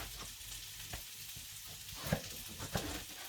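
Steady sizzle of shallots frying in a hot pan on the stove, with a few sharper crackles and pops rising above the hiss.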